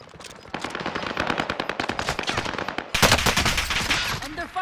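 Gunfire in a video game shooter: rapid bursts of automatic fire crackle in quick repeated volleys, close and loud, building to a heavier barrage near the end.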